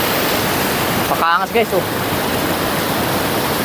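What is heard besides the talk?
waterfall and river in Mauban, Quezon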